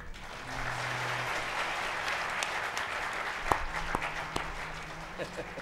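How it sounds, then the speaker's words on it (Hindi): A seated crowd at a Ram Katha religious discourse on a lawn in Lucknow claps briefly and somewhat faintly, with scattered sharper claps standing out near the end and a low hum underneath. "थोड़ा बजा लो तालियां"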